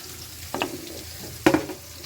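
Onions hit hot oil in a pan while cooking filling for liver singara, giving a soft continuous sizzle with two sharp stirring clatters.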